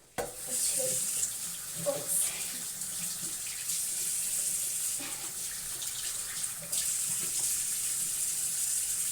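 Water runs steadily from a sink tap as someone washes their face, a close, continuous splash that lasts throughout with brief small movements.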